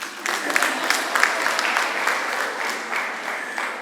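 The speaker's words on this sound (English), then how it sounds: "Please clap for me." A conference audience of female student leaders claps for a young speaker, with a steady, moderately loud patter of many hands that continues evenly throughout.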